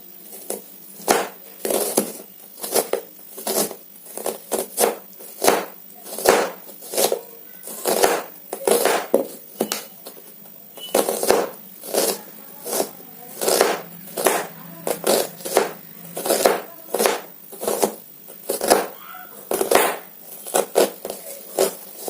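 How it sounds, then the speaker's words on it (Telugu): Onions being sliced thinly with a knife on a cutting board, a steady run of crisp, close chops repeating in quick rhythmic bursts with short pauses, and no talking. "సన్నగా కట్ చేసుకోండి ఫ్రెండ్స్."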